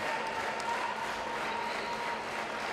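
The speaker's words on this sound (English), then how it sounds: "the Canberra Heat men over the back, clapping along with the women" Spectators clapping at a women's gold medal volleyball match at the Lynham Hockey Centre, Canberra, a steady wash of distant applause sustained throughout without a break.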